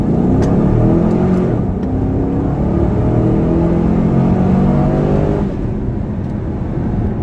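A stock-exhaust 2015 Chevrolet Camaro convertible accelerates hard with the roof down, its loud, steady engine roar and rumbling drone filling the whole run with no talking.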